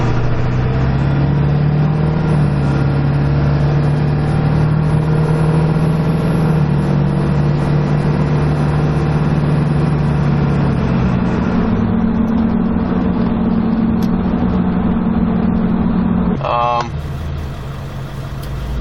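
A Ford 7.3 Powerstroke diesel fitted with a Wicked Wheel 2 turbo runs steadily for a long stretch, with a high turbo whine above a droning engine note that shifts partway through before settling lower at the end.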